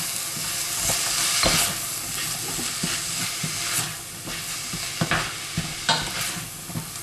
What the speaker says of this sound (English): And I'm going to fry these for about, I'd say 2 to 3 minutes.